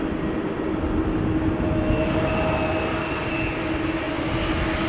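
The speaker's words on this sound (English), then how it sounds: "I think I hear its engines being started" Qatar Airways airliner engines spool up at a rainy Amsterdam Schiphol Airport: a steady broad roar with faint whining tones, distant and continuous throughout.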